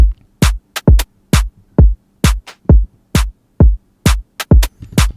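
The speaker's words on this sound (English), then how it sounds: "So we got these 2 snares that I've pitched left and right." Two pitch-shifted snare samples panned left and right in a bass house beat, firing as a quick, punchy pattern of sharp hits with short tails, loud and up front with no other sounds.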